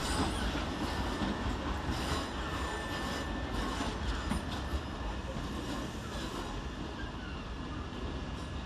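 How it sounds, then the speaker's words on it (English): Two coupled Southern Railway Class 377 electric units pull out of Brighton station, a steady low rumble of wheels with faint squeals and a thin electric whine, heard at a moderate distance with no talk. "Whilst departing in the background is 377-126 and 377-150 with the 1701 Southern Railway service to Orr"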